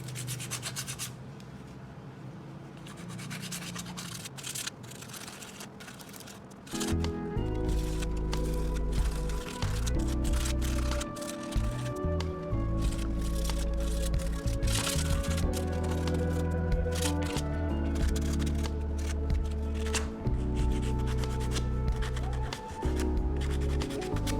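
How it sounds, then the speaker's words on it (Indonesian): Rough, repetitive scraping and rubbing of 80–100 grit sandpaper against the clutch lining of a Honda Vario 125 scooter CVT, steady and close, over a low background rumble. "amplas sedikit di bagian yang tidak rata, gunakan amplas tipe 80 atau 100"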